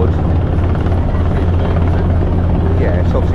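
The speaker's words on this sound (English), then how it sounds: "Helicopter's just going to stand off while that happens." Helicopter hovering off a Royal Caribbean Anthem of the Seas cruise ship during a medical evacuation winch, a loud, steady rotor thrum and engine drone filling the whole clip with no break.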